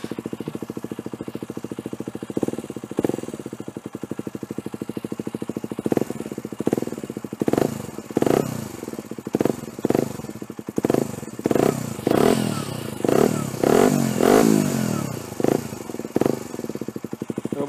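A KTM 125 Duke motorcycle with its exhaust baffle removed revs up again and again, each loud, close burst of engine roar climbing and dropping back toward a rough idle in an uneven rhythm.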